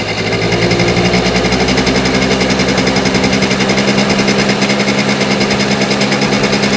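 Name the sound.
small engine running, carburetor mixture adjustment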